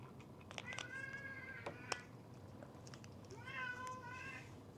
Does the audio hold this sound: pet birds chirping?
no